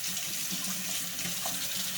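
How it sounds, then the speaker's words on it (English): Water drains through a house's sewage pipe just after a plumber snaked it, a loud, steady rushing flow that holds without a break and with no one talking. "the water is draining in the house again"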